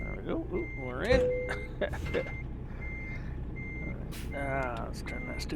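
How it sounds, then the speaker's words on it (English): Regular reversing beeps from a truck in American Truck Simulator repeat at an even pace over engine rumble, while someone talks over them. "Let's turn that stupid beeping off"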